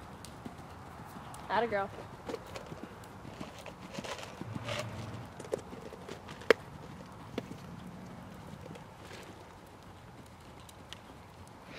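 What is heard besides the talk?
horse cantering in a riding lesson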